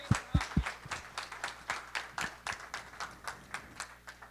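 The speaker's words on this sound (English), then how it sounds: "Can we give them one more round of applause, please?" A small audience claps for presenters, a few sharp nearby claps at first followed by a thin, rhythmic run of quieter claps fading in intensity.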